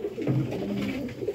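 Sialkoti pigeons cooing close by, a continuous low throaty warble with rolling coos over the short stretch.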